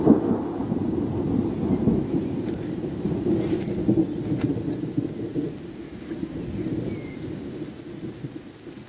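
Steady rain falling through a leafy forest canopy near the İnceğiz caves in Çatalca, with low rumbling thunder rolling beneath the patter throughout, fairly close and continuous.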